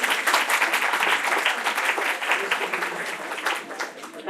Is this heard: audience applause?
yes